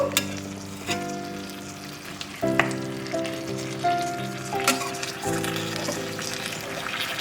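Mourola fish cooks in a pan on a leaf, Noakhali style, with a steady sizzle and frequent sharp pops and crackles, plus faint tonal ringing, and no one speaking.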